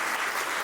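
Applause from an audience at a televised interview, a brief, dense burst of many hands clapping at once, steady and fairly loud with no talking over it.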